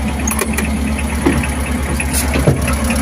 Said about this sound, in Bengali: প্রথমে আপনাদের ইঞ্জিনের কন্ডিশন সাউন্ড শুনিয়ে দিলাম